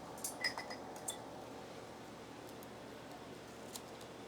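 Scissors snip a few times, faint and quick near the start, while houseplants are repotted with moss poles; quiet room noise follows.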